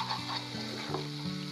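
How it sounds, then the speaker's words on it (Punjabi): A spice tempering for restaurant-style cauliflower sabzi roasts in a pan with a continuous close sizzle, over a steady low humming tone that shifts pitch a few times. "2 ਕੁ ਮਿੰਟ ਫਿਰ ਭੁੰਨਣਾ ਇਸੇ ਤਰ੍ਹਾਂ।"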